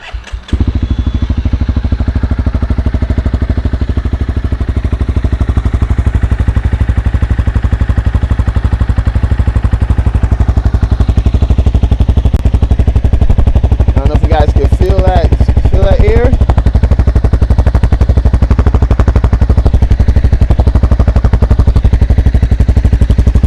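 A 2019 Honda CB300R single-cylinder motorcycle with an aftermarket exhaust idles loudly and close, a heavy, pulsing rumble, then is revved a couple of times in sharp rising bursts around the middle before settling back to idle.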